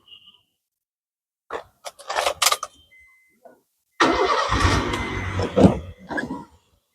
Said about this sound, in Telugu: ఇంజిన్ స్టార్ట్ చేస్తాను